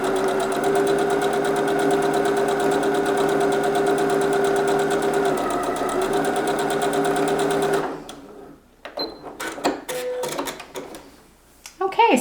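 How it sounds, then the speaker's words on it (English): A sewing machine stitches quilt fabric for a table runner in a loud, steady, fast whirring run of about eight seconds, then stops, leaving brief handling clicks and thumps. "we're just going to turn it around and we're going to stitch down the other side"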